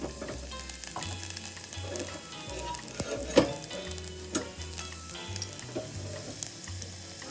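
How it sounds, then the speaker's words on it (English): Sliced garlic frying in sesame oil, a close, continuous crackling sizzle with a few sharper pops and light stirring taps. "I put the sesame oil in there and then the clove of garlic. I sliced it up. Now I'm going to fry it."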